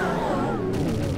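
Red explosions in the video game Zelda Majora's Mask: a quick run of gunfire-like blasts layered with game tones and a voice talking.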